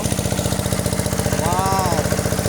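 A water pump motor drones loudly beside a wide rice paddy, its engine chugging in a fast, even rhythm throughout while a voice briefly speaks over it.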